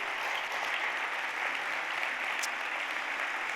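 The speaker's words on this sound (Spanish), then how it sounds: "Vamos a darle un aplauso a Dios." Applause from a church congregation during a Spanish-language sermon: sustained, even clapping from a crowd that holds steady throughout, with one brief sharp accent near the end.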